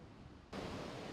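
Rough ocean waves on the Sri Lankan coast surge as a broad, steady wash of surf that abruptly grows louder and brighter partway through, with no voices.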